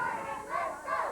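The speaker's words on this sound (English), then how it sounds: "Brian with some cheerleaders in the crowd over here cheering, let's go, Brian." Wrestling crowd at a USWA match cheering and chanting for Brian Christopher, with cheerleaders among the fans; a short, steady burst of massed voices.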